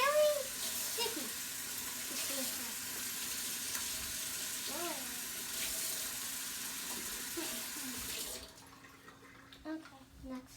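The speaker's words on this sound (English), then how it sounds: "now I'm just going to go rinse this off because it has glue all over the outside." Tap water runs steadily over a glue-coated container during slime making, a close, broadband hiss for about eight seconds before cutting off, with faint talking and small clinks underneath.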